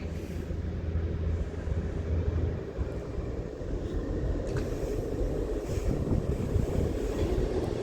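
A Class 158 diesel train at Wakefield Westgate station, heard as a steady low rumble of engine and rolling wheels, fairly close and continuous, with some wind noise across the microphone.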